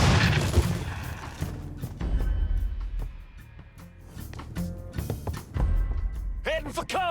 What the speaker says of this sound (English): Grenade, move!